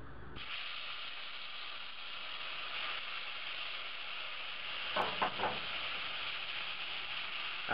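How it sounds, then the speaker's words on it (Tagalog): Cooked shrimp and other ingredients sizzle on a hot sizzling plate, a steady bright hiss starting abruptly and holding, with a few louder bursts of spitting near the end; quiet, no talk. "magpapainit lang tayo ng isang sizzling plate, and once na mainit na ito, ita-transfer na natin dito yung naluto natin kaninang mga hipon at yung ibang ingredients"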